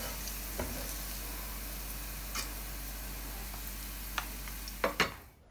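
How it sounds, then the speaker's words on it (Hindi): Onions frying in a pan produce a faint, steady low sizzle under a hum, with a few soft isolated clicks and a couple of louder knocks near the end. "अब अनियन को मैंने फ्राई कर लिया और निकाल लिया इसको।"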